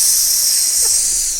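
A voice imitates hissing steam, producing a steady, fairly loud breathy hiss with no words.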